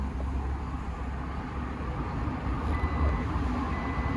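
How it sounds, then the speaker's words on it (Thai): Reverse gear engaged on an Isuzu D-Max pickup brings faint reversing beeps over a steady low engine hum and broadband cabin noise, no voices. "เดี๋ยวผมจะใส่เกียร์ถอยนะ"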